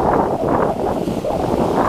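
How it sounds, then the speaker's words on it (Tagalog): Strong wind roars steadily across the microphone on a fishing boat at sea, a loud, continuous, gusty rush with no voices. "Taas ng hangin ah."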